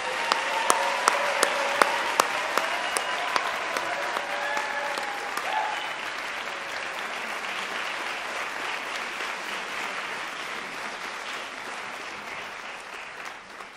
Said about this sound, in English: Give our students one more round of applause